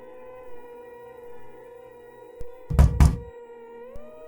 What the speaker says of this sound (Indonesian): Suara ketukan di kaca jendela membuatku kembali membuka mata.